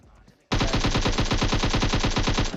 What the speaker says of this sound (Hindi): शॉर्ट गन इस टाइम पे बहुत काम आती है, बहुत ज्यादा